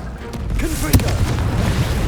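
A Confringo spell explodes in the video game Hogwarts Legacy as a single close, punchy boom about a second in, set against a steady rumbling background.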